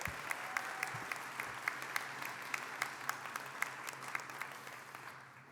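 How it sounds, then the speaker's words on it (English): An audience at a Kennedy High School event applauds with steady, faint clapping that holds evenly for several seconds before fading out. "Could we please give her a round of applause?"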